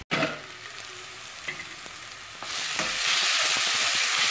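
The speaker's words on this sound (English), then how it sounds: "we will cook it until the tomatoes are cooked very well and it leaves the oil from the sides" Tomatoes and onion frying in oil in a pan for paneer bhurji, a steady loud sizzle and crackle that grows denser and hissier toward the end, with no talking.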